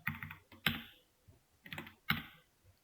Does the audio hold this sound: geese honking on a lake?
no